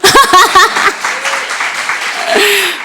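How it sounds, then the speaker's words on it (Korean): A crowd applauds for a few seconds, starting under a brief burst of voice. "박수 쳐줘야죠"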